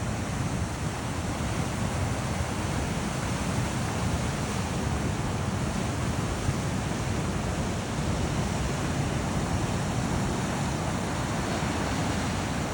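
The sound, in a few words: ocean waves breaking on a West African surf beach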